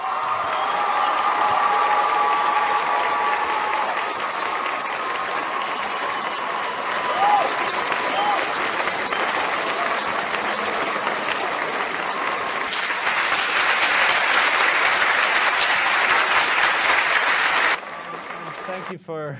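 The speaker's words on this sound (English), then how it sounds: "standing round of applause for the amazing Graham Hancock" A large auditorium audience gives Graham Hancock a standing ovation, sustained clapping that swells toward the end with some cheering mixed in, then cuts off abruptly to quieter room sound.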